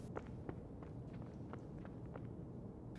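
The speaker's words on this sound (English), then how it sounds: "So I hear him running away from me. The footsteps are getting quieter." Footsteps of a player running away in Escape From Tarkov, a steady series of soft, muffled steps over a low rumbling ambience, fairly faint and distant.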